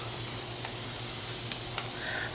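A spray bottle mists water onto a row of clay-coated seeds during indoor seed starting, giving a faint steady hiss with a few short, soft spritz bursts.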